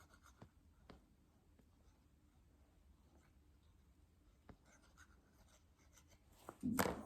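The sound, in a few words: applying glue to paper card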